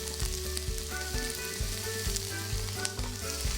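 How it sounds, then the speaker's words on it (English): Carrot, rehydrated shiitake mushroom and firm bok choy and nappa cabbage stalks stir-fry for gomoku ankake yakisoba, a loud continuous sizzle broken by regular scraping and clanking strokes of the utensil. "Add the carrot, rehydrated dried shiitake mushroom, and firm stalks of bok choy and nappa cabbage. Stir fry the ingredients."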